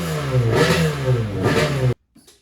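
A 2001 Sea-Doo RXDI jet ski with a rebuilt 951 Rotax engine revs hard twice in quick succession, loud and close, then cuts off abruptly into near silence.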